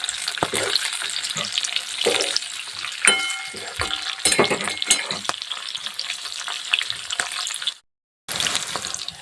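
Green chilies roasting in a pan on a gas stove at low flame, with a continuous close sizzle and frying crackle, punctuated by stirring scrapes and a brief silent gap near the end.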